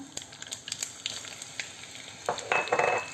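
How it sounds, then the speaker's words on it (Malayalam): Oil sizzles steadily as chopped onion and red chili fry in a pan, with scattered crackles and a louder burst of hissing near the end. "ഉള്ളി മുളക് നല്ലതായിട്ട് മൂത്ത് വന്നിട്ടുണ്ട്"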